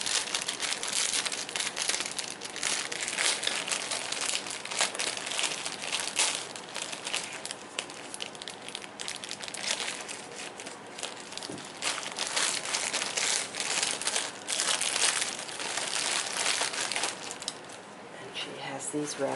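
Crinkling and rustling of a bag being opened to get at a doily and trim, a continuous close, busy crackle with no pauses.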